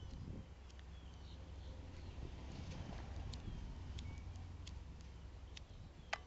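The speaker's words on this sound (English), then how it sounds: "Goddamn wind." Gusty wind buffets a microphone outdoors, a steady low rumble with broadband blustering that runs the whole time, with a few brief faint ticks near the end and no talking.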